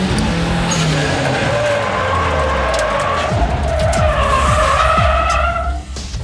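A race car drifts on a track, its tires skidding and squealing loudly and continuously while the engine revs underneath, with several sharp scrapes and bursts near the end.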